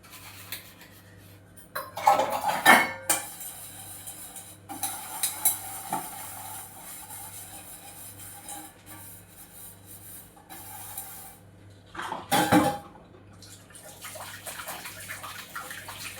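Dishes are scrubbed and rinsed under running water in a home, with splashing, rubbing and scraping, and several loud clattering bursts of pots and utensils between steadier stretches of washing.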